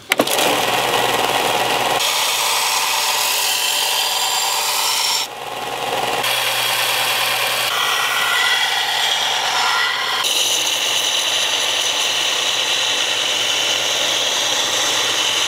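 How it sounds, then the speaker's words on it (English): A belt sander finishes the edge of a handmade knife, a loud, steady abrasive whir running nearly unbroken throughout with slight shifts in tone as the blade is worked against the belt. "Now I'm gonna finish it off with the belt sander"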